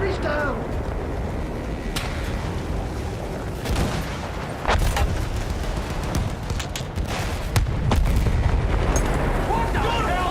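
Cannon and artillery fire in a World War I battle in Battlefield 1, with repeated booms, explosions and sharp gunshot cracks layered into a dense, loud barrage. Soldiers' voices are mixed in under the blasts.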